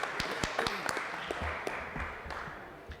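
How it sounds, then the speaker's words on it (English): Scattered audience applause at a conference, sparse claps with sharp individual hits, faint and thinning out over a few seconds, with some murmured talk beneath. "I'm going to start with a round of applause for Jason for pulling this together"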